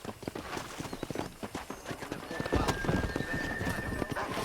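Horse hooves clip-clopping in a gallop in the video game Red Dead Redemption, a steady rapid rhythm close by with a whinny, mixed with game noise and a voice talking over it.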